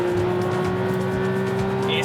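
A Porsche GT3 drives hard on a race circuit, its engine holding a steady high drone with a sustained whine, while someone talks over it throughout.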